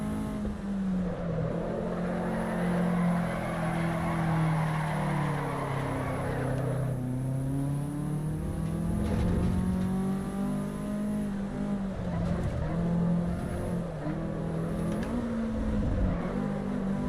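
Peugeot 205 engine in the Assetto Corsa Evo racing game, a steady loud drone rising and falling through revs and gear changes across the whole stretch, with a brief dip and tire scrub midway.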